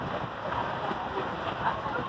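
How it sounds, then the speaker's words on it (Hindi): Torrential rain driven by strong wind keeps up a steady, dense wash of water close by, with a faint rise partway through and a voice now and then under the downpour. "धुआंधार बारिश स्टार्ट हो गई है"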